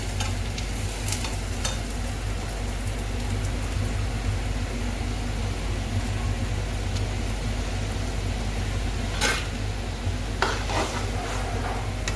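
Rohu fish frying in hot oil in a covered pan, a steady broadband sizzle with a constant low hum beneath and a few brief clinks or bursts near the end, no talking.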